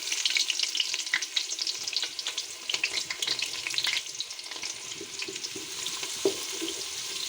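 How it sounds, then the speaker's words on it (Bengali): Chopped onions crackle and sizzle in melted ghee, a close, moderately loud frying hiss with scattered pops and stirring sounds. "পেঁয়াজটাকে এখন সামান্য একটু ভেজে নেব"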